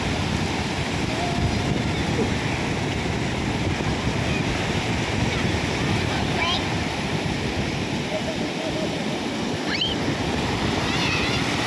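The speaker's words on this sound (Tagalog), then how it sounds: "Grabe ang alon." Ocean waves surge and crash on the shore in a steady, loud, broad roar with wind buffeting the microphone throughout, while a family plays at the beach.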